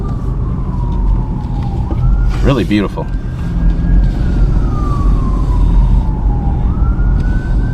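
An emergency vehicle siren wails somewhere in a historic residential neighborhood, sweeping slowly up and down at a moderate distance under steady traffic rumble, while a person speaks briefly partway through.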